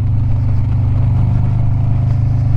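A Harley-Davidson 2022 Street Glide Special with a Screaming Eagle 131 Stage IV engine holds a loud, steady, deep throbbing rumble up close, its low firing pulses unbroken across the whole stretch with no talk.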